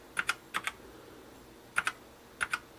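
Keys clatter in quick paired strokes on a Motospeed CK101 RGB mechanical keyboard with red switches, sounding four close bursts of crisp clicks separated by short pauses in a quiet room.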